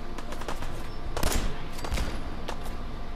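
Gunfire in the video game Fallout 4: a few sharp shots crack out over a steady background of game ambience, with no one speaking.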